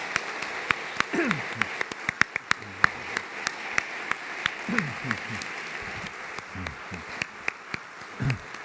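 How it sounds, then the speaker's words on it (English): An audience claps for an astronaut panel at a space studies program event. The clapping is sparse and scattered, with distinct individual claps and some voices underneath. "let's give a big round of applause for our panel"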